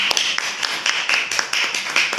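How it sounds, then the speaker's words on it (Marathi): An audience at a community center claps together, with sharp close hand claps in an uneven rhythm for a couple of seconds. "एकदा काकांसाठी जोरदार टाळ्या वाजवा"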